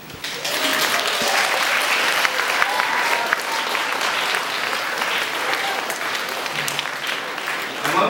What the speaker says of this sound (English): give a round of applause to the people that made it possible for all of us